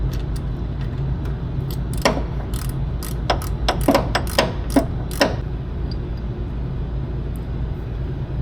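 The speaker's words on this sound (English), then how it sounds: "I was able to reach this last bolt with a flex head wrench" A flex head ratchet wrench clicks while turning a bolt on the engine of a 1969 VW Convertible, a cluster of sharp, rapid clicks over a steady low background drone, with quiet gaps before and after.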